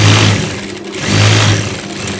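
Sewing machine stitching the side seam of a long cardigan, a loud close steady mechanical whir in two bursts with a short slowdown between.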